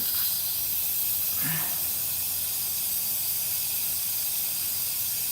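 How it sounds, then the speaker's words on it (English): A continuous airy hiss of a spray can, steady and close, with a brief faint thump partway through. "get some black spray paint"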